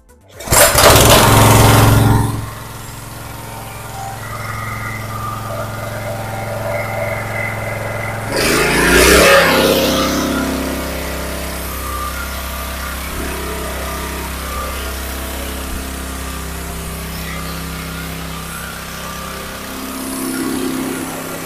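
A HAZENclean GPC200HZN petrol pressure washer engine roars loudly as it starts, settles into a steady, droning idle, then briefly surges again before running on evenly.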